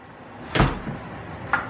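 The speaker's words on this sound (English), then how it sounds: "oh, close the door" A house door swings shut with one sharp knock, followed about a second later by a fainter second tap, both close and isolated against quiet background.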